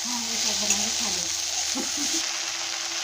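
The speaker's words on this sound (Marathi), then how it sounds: "मीठ टाकून मी आता हलवून घेते ती मस्त अशी हलवून घेते" Okra stir-fry (bhendi bhaji) sizzles steadily in a pan as it is stirred after salting, with a continuous close frying hiss and a few soft scraping movements.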